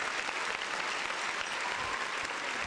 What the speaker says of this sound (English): Round of applause for all 38 of them.